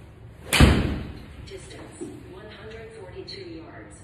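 A golf club strikes a ball on a practice hit, one sharp loud impact near the start followed by quieter ambient sound and faint background noise.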